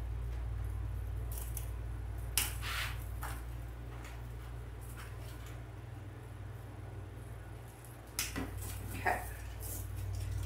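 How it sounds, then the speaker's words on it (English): Scissors snipping holiday swag decorations such as pine cones and greenery, a few scattered crisp cuts over a steady low hum, fairly faint and close, with no talk. "I'm just going to cut these up."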